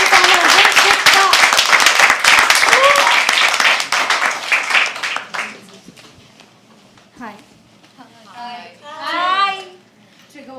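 Lively clapping from the crowd at a poetry open mic fills the first half, then fades, and people start talking over the quieter room.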